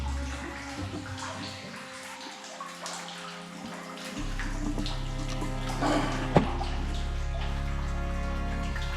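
Water drips and pours from the ceiling of an underground river cave explored by paddleboard, a continuous splashing patter with sharper drops that grows louder partway through.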